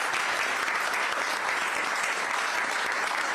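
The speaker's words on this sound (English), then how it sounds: "And how about another round of applause for Jeff Starbeck" An audience at a campaign town hall in Iowa claps steadily and loudly for a few seconds, a dense, even wash of applause with no break.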